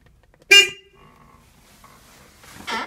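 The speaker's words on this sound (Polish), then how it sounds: "No i jak widzicie, klakson działa." A Fiat 126p car horn, just repaired, gives a short loud toot up close, then quiet, then a second brief blast at the end.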